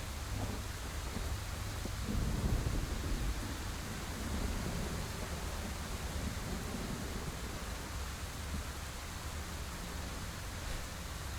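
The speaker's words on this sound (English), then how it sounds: "You're outside. It's raining." Steady rain with low rumbling thunder in the horror video game Scarlet Hollow, a continuous broadband wash that swells slightly around two seconds, heard alone with no talking.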